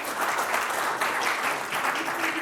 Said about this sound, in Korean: 강원호 박사님께 큰 박수 부탁드리겠습니다